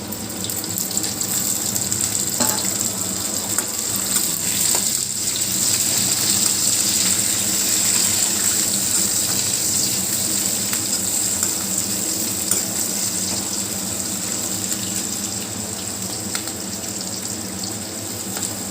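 Garlic, onion and capsicum sizzle in a frying pan while veg Manchurian is being cooked, making a steady, loud, bright hiss that runs throughout with no talking.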